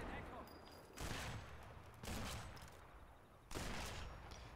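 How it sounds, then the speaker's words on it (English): Muffled gunfire from the video game Sniper Elite 4 in co-op multiplayer comes in three distinct bursts, faint and low in level with rumbling reverberation between them. "I think they're all shooting at me"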